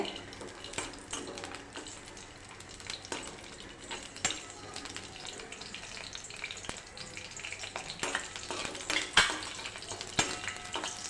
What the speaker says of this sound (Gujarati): બધા ડ્રાયફ્રૂટને આપણે થોડા થોડા શેકી લેવાના છે ઘીમાં